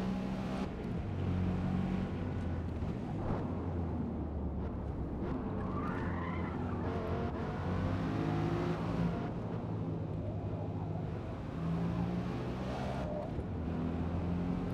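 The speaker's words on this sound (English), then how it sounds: "Car sounds very quiet from the inside." The new Ford Mustang driven in Forza Motorsport, heard from the cabin as a muted, steady engine drone with tire skids and squeals over a low rumble, no voices.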